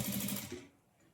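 A sewing machine stitches piping on a boat neck, running in a brief close burst that stops abruptly and leaves faint room noise.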